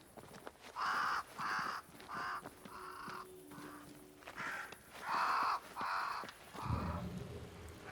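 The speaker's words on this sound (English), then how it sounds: "Crows. They flock to that great tree up there." Crows caw in repeated loud bursts of two or three calls, with short gaps between them, near a great tree in the Banishers: Ghosts of New Eden video game, over a quiet background.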